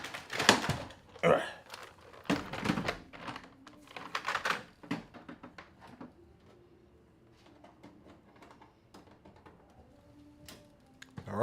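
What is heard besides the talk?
typing on a computer keyboard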